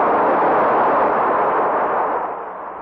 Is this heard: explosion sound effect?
yes